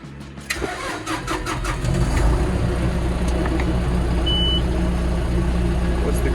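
A John Deere 6130 D tractor's diesel engine cranks and catches, then settles into a steady, loud idle that carries on alone.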